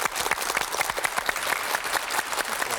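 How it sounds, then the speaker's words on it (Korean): A studio audience gives warm applause as a singer is welcomed onto a KBS music broadcast, steady dense clapping throughout at a fairly close, even level. "뜨거운 박수 부탁합니다."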